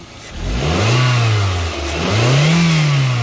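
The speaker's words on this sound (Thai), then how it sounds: "ผมเร่งให้ดูด้วยนะครับ" A Toyota Altis 1.8 E automatic engine revved twice while parked, each rev swelling up and easing back down, loud and close with the idle audible between pulls, no talk.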